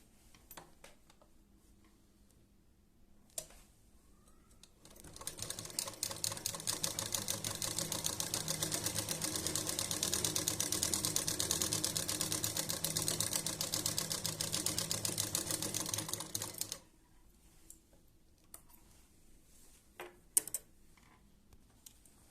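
A sewing machine stitching fabric runs in a fast, steady mechanical chatter for about twelve seconds, close and loud, framed by quiet handling noises before and after.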